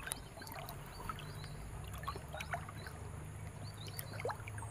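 River water flowing and trickling softly nearby, a faint steady gurgle with small splashes and no talking.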